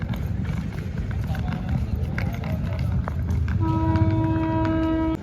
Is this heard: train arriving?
yes